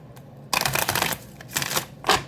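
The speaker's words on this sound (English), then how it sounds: "So let's do 3 more shuffles here." Tarot cards being shuffled in a few quick riffling bursts separated by short pauses, close and crisp, without speech.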